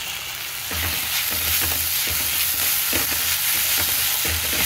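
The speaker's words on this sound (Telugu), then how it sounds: "ఈ ఉల్లిపాయలు వేగేటప్పుడే ఇందులో కొద్దిగా అల్లం వెల్లుల్లి పేస్ట్," Onions with ginger-garlic paste fry in a pan for a prawn dish, a loud continuous sizzle broken by repeated scraping stirs.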